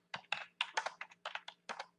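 Keys clatter on a computer keyboard in quick irregular bursts of clicks, close and fairly faint, with a low steady hum beneath and no talking.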